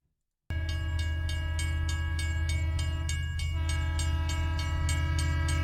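A loud, sustained train horn sound effect sounding alone after a brief silence, with steady harmonic blasts and faint rhythmic clicking layered on top.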